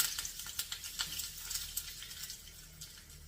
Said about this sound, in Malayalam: വറ്റൽമുളകും കറിവേപ്പില ആഡ് ചെയ്ത് പതുക്കെ ഇളക്കി കൊടുക്കാം.